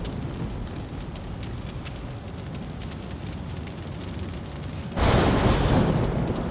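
A loud, sudden grenade blast in the Deadpool video game breaks through steady game noise and rumbles on for over a second, with no voices over it.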